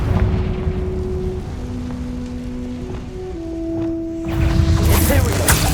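The Confringo blasting spell bursts in Hogwarts Legacy, a rumbling, crackling explosion that swells loudly near the end over a steady game background with faint tonal hums.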